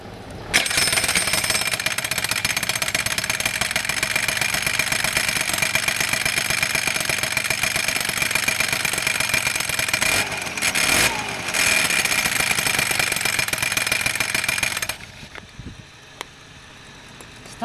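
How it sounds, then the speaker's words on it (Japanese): A V100 engine cranks with its starter gear grinding, the fault occurring while away on a trip: a harsh, rapid mechanical rattle drones steadily for about fourteen seconds, then cuts off, leaving quiet clicks and faint handling noises. "スターターギアが当たってますね"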